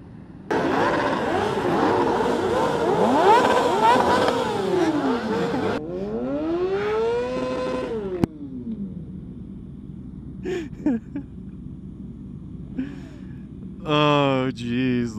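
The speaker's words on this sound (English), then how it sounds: "Look at all those motorcycles." Motorcycles roar past one after another, engines rising and falling in pitch as they pass, a loud continuous rumble that thins out with a few later bikes.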